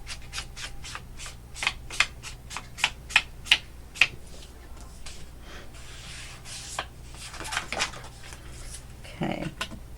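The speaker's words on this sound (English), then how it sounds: "fold it where the paper, you know, bulges out" Sheets of paper are folded and creased by hand for a shabby purple garden journal, giving a run of crisp, close rustles and sharp snaps in a steady rhythm, then softer shuffling handling.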